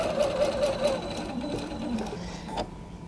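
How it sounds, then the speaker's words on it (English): Sewing machine stitching a bear paw quilt block, a soft rapid mechanical chatter running steadily at close range, with a voice speaking briefly over it. "Now we can go do the sewing."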